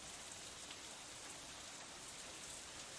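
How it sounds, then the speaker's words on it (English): Steady rain ambience from the Katawa Shoujo visual novel, an even, dense hiss of falling rain pattering on surfaces, moderately loud and unbroken throughout with no voices. "The rain increases a little more, offended that we haven't fled yet."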